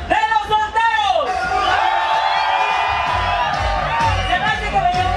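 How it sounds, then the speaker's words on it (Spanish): A crowd of single people at a live event shouts and whoops together in a loud, sustained roar, rising and falling over several seconds. "Y yo quiero escuchar el grito de los solteros."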